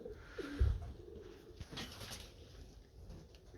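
Hens in a farmyard give soft, low clucking calls, with an occasional louder note near the start, over quiet outdoor background.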